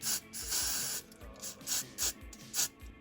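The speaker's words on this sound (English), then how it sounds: "I'm just going to hairspray it so it stays in place using the Got2b Freeze Spray" A can of Got2b Freeze hairspray sprays in a series of short hissing bursts, about half a dozen, close by, with brief pauses between them.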